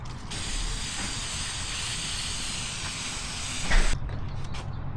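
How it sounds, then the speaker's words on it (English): A continuous pressurized spray of bed liner remover on a JL Jeep Wrangler hisses steadily for about four seconds, ending in a brief louder burst before cutting off. "We're going to spray this down now."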